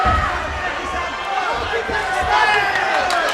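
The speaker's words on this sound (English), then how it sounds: "Oh, listen to the crowd." A fight tournament crowd roars and cheers throughout, loud and sustained, with a commentator talking over the noise.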